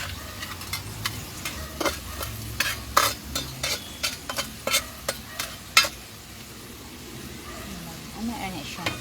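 Food fries in a pan as a utensil stirs and scrapes it in a quick run of sharp clacks, with a soft sizzle beneath and people talking at times.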